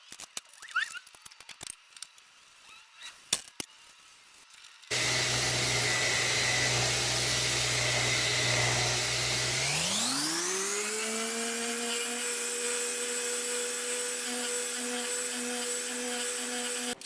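A power sander works a recycled hardwood dining tabletop with 80 and 120 grit. Quiet handling clicks come first, then a loud steady machine whir whose pitch shifts upward midway and holds.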